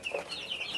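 Chickens clucking on a small poultry farm in Cameroon, a short burst of soft, close clucks and calls from a few birds with no talking.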